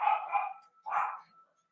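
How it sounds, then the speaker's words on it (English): A dog barks indoors, two short separate bursts at moderate loudness, with no other sound around them. "And my dog keeps barking."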